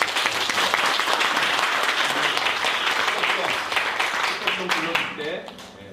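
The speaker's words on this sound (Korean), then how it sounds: "큰 뜨거운 박수가" A congregation at a Korean church service applauds loudly and steadily for several seconds, then the clapping thins out and voices begin to come through.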